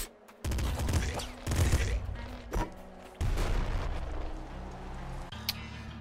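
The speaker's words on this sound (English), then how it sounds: "Good old assault rifle" Assault rifle fire in Nuclear Throne: short bursts of punchy, booming shots with thuds and explosions between them, loud and close, with a brief quiet pause partway through.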